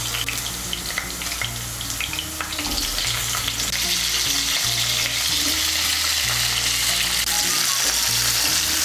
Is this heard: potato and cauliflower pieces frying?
yes